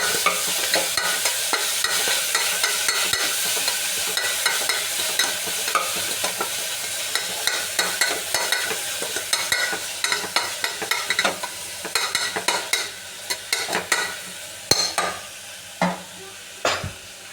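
Tomato masala for a moringa drumstick sambar is stirred and roasted in a pan over low flame, giving a steady close sizzle with repeated scraping strokes and sharper spaced clatters toward the end.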